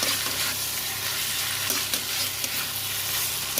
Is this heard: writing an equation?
no